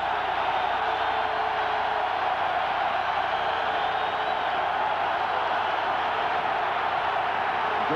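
Football stadium crowd at a 1990 Michigan at Ohio State college football game, a steady dense roar of massed voices at a constant level throughout, broad and distant-sounding.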